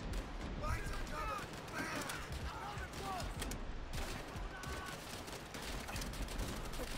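Dense battle gunfire in the Call of Duty World at War video game, a steady rattle of rifle and machine-gun shots mixed with shouting voices, continuous and busy throughout.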